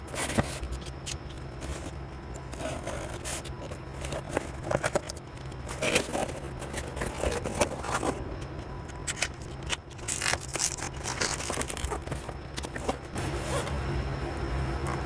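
Packaging of a silver iPhone 11 Pro Max being opened by hand: close, intermittent rustling, tearing and scraping of plastic film and cardboard, with sharp crackles and brief pauses between handling sounds.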